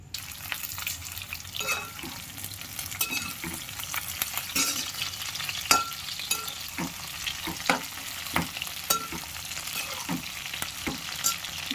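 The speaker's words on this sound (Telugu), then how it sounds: "ఇలా దగ్గరుండి కలుపుకుంటూ వేపాలి" Broad beans (chikkudukaya) fry in a pan with a soft steady sizzle, while a spoon stirs them in repeated scraping, clattering strokes.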